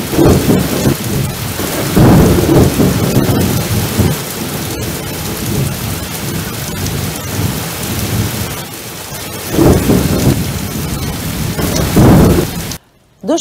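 Heavy thunderstorm rain pours steadily and loudly, with deep rolls of thunder swelling several times over the downpour; no voices.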